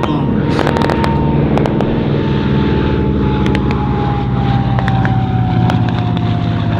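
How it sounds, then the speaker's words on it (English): A Lockheed PV-2 Harpoon warbird with twin Pratt & Whitney engines makes a flyby at the California International Airshow: a loud steady propeller drone with a slowly shifting tone, heavy wind rumble over it, and faint clicks. "This is the Pv2 Harpoon. Built by Lockheed, powered by two Pratt & Whitney continuously variable pitch propellers"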